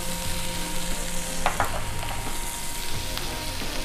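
Tomato paste caramelizing in a pan with kosher salt and dried oregano gives a steady, close sizzle and crackle, with a few brief stirring scrapes partway through.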